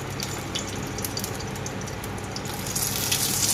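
Dry red chillies sizzle in a little hot oil in a well-heated kadai, a steady broadband frying hiss that holds evenly throughout and brightens slightly toward the end, with no voices.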